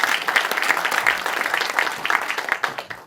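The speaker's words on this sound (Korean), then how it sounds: "뜨거운 박수로 맞이해주시기" Audience at a Jeonbuk arts festival event clapping to welcome a guest, a dense, steady round of applause holding for about three seconds and easing slightly at the end.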